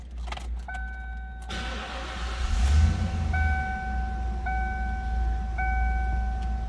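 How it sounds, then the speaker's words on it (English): A 1995 Ford Mustang GT convertible with a key in the ignition gives repeated chimes, then the engine starts with a short cranking burst and settles into a steady low idle, close by. "Let's go ahead and start it up."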